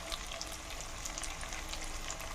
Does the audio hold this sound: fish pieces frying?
yes